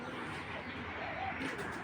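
Imported racing pigeons coo softly in a steady, faint murmur against a continuous background hum.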